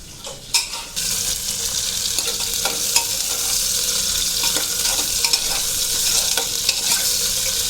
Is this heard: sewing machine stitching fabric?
no